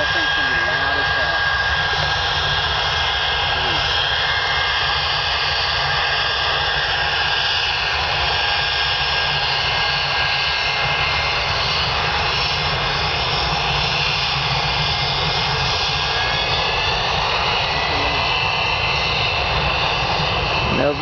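A loud Gulfstream G2 jet engine roars steadily at full takeoff power, a dense continuous whine and rush that never lets up.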